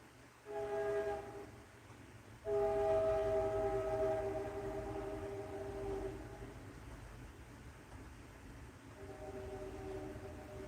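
A train rolls past with its horn sounding in long, sustained blasts over a low rumbling of the cars, fairly loud and heard without talk.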